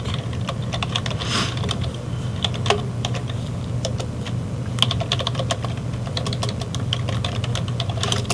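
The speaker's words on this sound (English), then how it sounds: "So the gain is picking up the keyboard" A computer keyboard picked up by a microphone with its gain set high, steady rapid typing clicks over a constant low hum, close and moderately loud without any speech.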